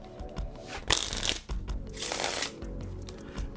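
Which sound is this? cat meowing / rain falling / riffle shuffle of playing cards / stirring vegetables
riffle shuffle of playing cards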